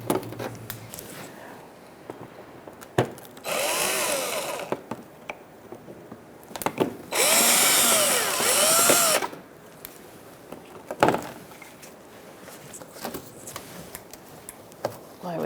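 A power drill whirs in two bursts, backing plastic grommets out from under the passenger-side front wheel well of a 2012-2017 Hyundai Accent, with sharp ticks and clicks of the fasteners between runs, close up.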